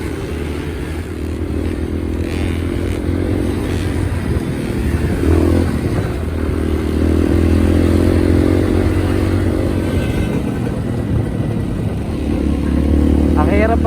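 Motorcycle riding up a rocky, dusty trail on Mt. Ugo in Itogon, Benguet, its engine droning steadily and loudly throughout with rattling and scraping over stones, while people talk over it.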